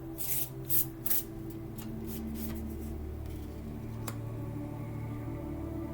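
Tarot cards are shuffled close by, with a few quick, crisp riffling bursts in the first second or so, then softer sliding and rubbing of the deck fading into a quiet background.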